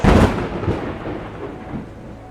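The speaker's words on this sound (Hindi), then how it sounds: "बारिश शुरू हो चुकी है" Thunder rumbles near at the start of a rainstorm in Shogran, Pakistan, a loud crack fading into rolling grumbles over a soft wash of rain.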